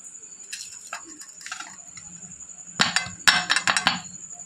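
Baked palm-fruit cakes are tipped out of greased moulds onto a plate, giving a few light clinks and taps early on, then a louder cluster of sharp metallic knocks and rattles near the end, close by with no talk.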